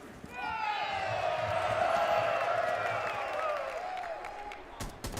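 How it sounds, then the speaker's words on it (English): Audience at the BLAST R6 Montreal Major finals, a Rainbow Six esports event, swells into cheering and applause, sustained for several seconds before fading, with commentators talking over it. "I think that's worth a cheer at least."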